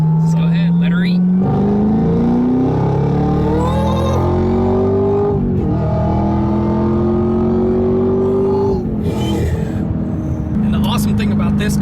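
A 2018 Jeep Trackhawk accelerates hard, its engine note climbing steadily through several upshifts with brief dips between gears, loud and close from inside or near the car.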